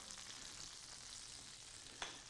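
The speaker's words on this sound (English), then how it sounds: "you hear the sizzling starting?" A soft, steady sizzle of butter hisses continuously in a pan over slightly too-high heat, faint and even, with one brief tap near the end.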